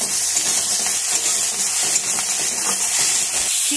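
Onion, chili, ginger-garlic paste, curry leaves and whole cumin fry in hot oil, giving a steady, loud, close sizzle and hiss that runs without a break the whole time, with no voices over it.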